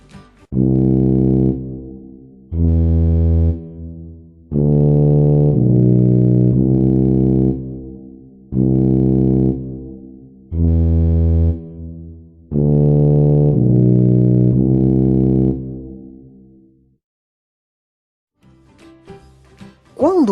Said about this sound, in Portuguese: E o som da tuba também é um som grave.